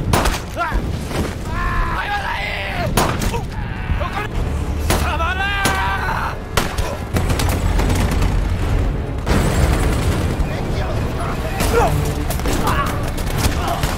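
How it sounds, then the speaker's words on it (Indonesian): Battle-scene gunfire from a war film as a sniper shoots at fleeing Japanese soldiers, with repeated sharp shots and heavy booms in a dense, loud soundtrack mix and voices shouting between the bursts. "Tatsuo menembaki para prajurit Jepang yang berusaha kabur dari pertempuran tersebut"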